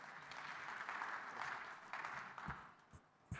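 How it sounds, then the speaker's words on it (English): A crowd applauds with sustained clapping that gradually thins out, a few louder individual claps near the end. "Please welcome him with a round of applause."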